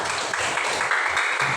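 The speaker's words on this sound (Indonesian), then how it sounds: "kasih tepuk tangan dulu yuk" Schoolchildren in a classroom give a short burst of clapping for a visiting classmate during an English lesson; brief, fairly close, with faint murmur underneath.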